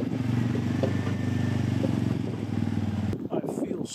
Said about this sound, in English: driving that ATV